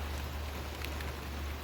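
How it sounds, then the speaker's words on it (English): Steady rain falling outdoors at Lake Windermere in the English Lake District, a soft continuous hiss with a low rumble beneath, no wind and no talking. "So yeah, it is raining."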